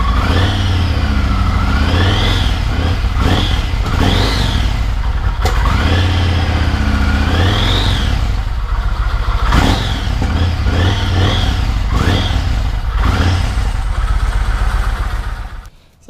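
A Yamaha MT-01 motorcycle engine, fresh from an oil change, runs loud and close, its steady throb rising and falling through repeated revs before cutting off at the end.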